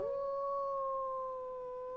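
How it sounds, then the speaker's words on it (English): A wolf in the video game ARK lets out a single long, steady howl that holds a clear, even pitch before fading slightly, with nothing else heard. "Should we do a howl? I really want a howl."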